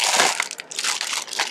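Close, loud crinkling and crunching of a plastic bag being handled in a classroom, continuous rustling with brief pauses, no talk.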